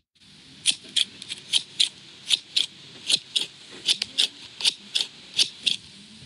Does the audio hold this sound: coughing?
no